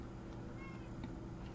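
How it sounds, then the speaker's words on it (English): A cat meows faintly in the background, a short, soft cry under steady low room noise. "I don't know if you can hear my cat meowing in the background."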